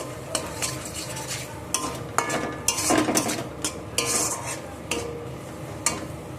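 Turmeric, chili and cumin powder with spices sauté in a pan, a low sizzle under frequent rhythmic scraping and clinking of a metal spoon, close and without voices.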